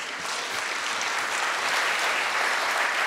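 Sustained applause from a large audience at a conference's closing plenary, a dense, even patter of many hands clapping throughout with no talk over it.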